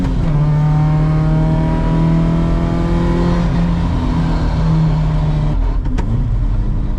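A 1988 Volvo 740 GLE accelerates hard through its gears, the engine note climbing steadily and loud and close, then dropping briefly at a shift near the end.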